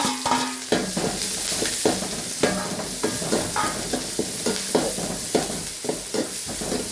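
Onion and green chilli sauté in an oil pan tempered with mustard seeds, a steady close sizzle broken by repeated scrapes and knocks of a stirring spoon, with no talking.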